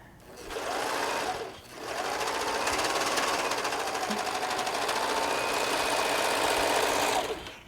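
A serger sewing machine stitches beanie hats, a steady, fast mechanical whir running continuously with a short pause near the start, close and fairly loud.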